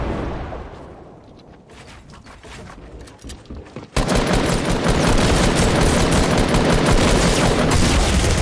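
Rapid video-game gunfire in Fortnite, a faint patter of shots at first, then a sudden dense, loud burst of continuous automatic fire that fills the rest of the moment.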